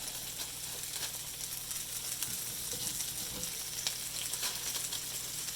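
Tomatoes frying in a pan beside vegan smoky tempeh bacon for a veggie full English breakfast, a steady close sizzle with faint crackles throughout and no talking.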